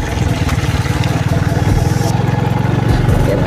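A motorbike engine runs while riding along a road past a river, a steady, loud and close rhythmic chugging that holds throughout with slight shifts in pitch.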